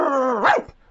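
A person imitates a dog's bark with one close, loud, voiced yap that rises and then cuts off sharply.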